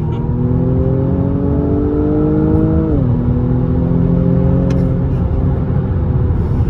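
A new BMW four-cylinder car accelerates hard at full throttle, its engine tone climbing steadily, dipping at a gear change, then climbing again. The sound is loud, close and continuous, with no speech.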